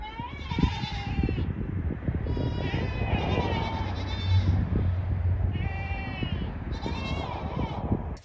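Several goats bleat repeatedly, some near and some farther off, their wavering cries overlapping against a low steady background hum.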